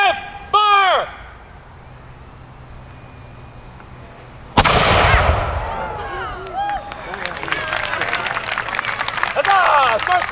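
A historical cannon fired by a reenactment militia at an outdoor Culper Spy Day event: one sharp, loud blast midway, followed by rumbling echoes and crowd noise, with shouted commands and voices before the shot.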